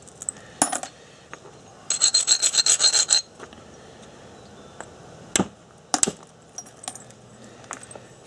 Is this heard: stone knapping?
yes